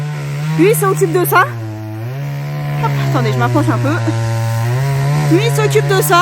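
A new chainsaw cuts a huge tree trunk with a steady, loud buzzing drone that dips in pitch as it bites, running under someone speaking French nearby.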